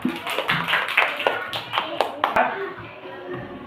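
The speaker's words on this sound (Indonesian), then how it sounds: "kita tepuk tangan buat Caca" A classroom of children claps for a classmate named Caca, a ragged run of quick hand claps with sharp individual slaps standing out, close and moderately loud, with some children's voices mixed in.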